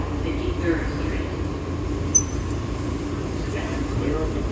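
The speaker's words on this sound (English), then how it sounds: "This is a Queens-bound E-train." Queens-bound E subway train standing in a station, a steady low rumble and ventilation hum filling the platform, with a brief high squeak near the middle and a faint voice in the background.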